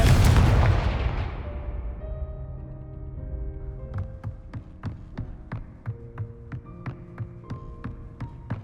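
A fiery blasting spell explodes in Hogwarts Legacy, opening with a loud, deep boom whose rumble decays over a couple of seconds, then gives way to a steady series of sharp ticking pulses and a sustained hum.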